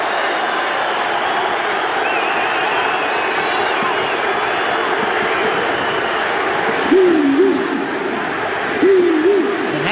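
Huge stadium crowd at the 1998 Anzac rugby league test between New Zealand and Australia, a dense roar of cheering and whistles that swells near the end, with a commentator speaking over it.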